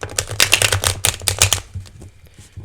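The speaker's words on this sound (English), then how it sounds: "One more shuffle." Tarot cards shuffled by hand in a quick series of crisp riffling and slapping bursts over about a second and a half, then a short soft tail of settling card sounds close by.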